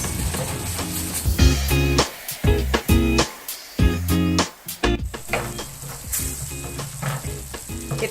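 Ingredients for peri-peri chicken sizzle and fry in a pan, a steady loud crackle broken by scraping and stirring bursts, with no one talking.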